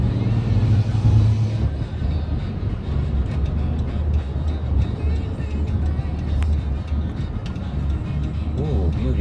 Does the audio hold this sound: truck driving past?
yes